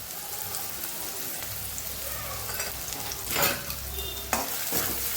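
Chopped onions and green garlic sautéing in a pan, a continuous close sizzle broken by scraping stirs of a spoon against the metal.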